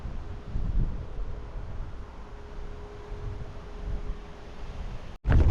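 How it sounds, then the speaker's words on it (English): Strong wind buffets a microphone outdoors at a roof-tent car camping spot on a grey morning, a steady broadband roar with gusts, briefly cutting out near the end before returning loudly. "it's a bit windy this morning"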